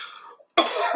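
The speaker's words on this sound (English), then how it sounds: "I've got a cough." A man coughs in a quiet room: a short rough burst, a brief silence, then a louder, longer hacking cough close to the microphone.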